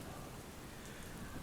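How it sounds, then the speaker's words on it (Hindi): Heavy rain falls outside, a steady dense wash of drops that stays even and fairly faint throughout, with no voices. "बाहर हो रही है जम के बारिश"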